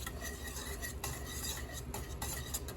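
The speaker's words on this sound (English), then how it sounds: "You stir it hard so it don't roll over." Thickening plum jelly is stirred hard in a pot at a rolling boil for canning, giving a continuous close scraping and bubbling sound with a few brief louder spoon strokes and no talk.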